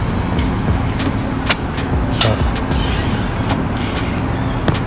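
Steady road traffic with a car driving past outside a guarded gated compound, a constant broadband rumble with faint brief clicks over it and no clear rise or fall.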